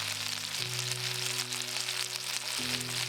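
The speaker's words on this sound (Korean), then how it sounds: "기름으로 약간 튀기듯이 구워지는 게 정상이니까 당황하지 마세요" Steady, close sizzling of pork neck frying in hot oil, a dense crackling hiss with a low hum underneath throughout.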